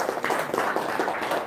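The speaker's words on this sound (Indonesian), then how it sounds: "Tepuk tangan." At a gathering, a small audience claps briefly, a loose patter of hand claps at moderate volume lasting a moment with no talk over it.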